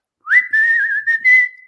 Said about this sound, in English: What song are you whistling?